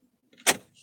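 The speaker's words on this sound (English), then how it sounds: "Let me lock my door." A door lock being turned gives a single short, fairly faint click-and-clunk, heard alone in a quiet room with a soft rustle after it.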